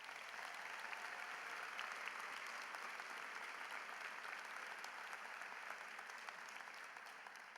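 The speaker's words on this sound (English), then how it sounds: "How about a big round of applause for those people?" A large crowd at the Whitman-Hanson 2017 high school graduation ceremony applauds steadily, a thick continuous wash of clapping heard from some distance, fairly faint, with no voices on top.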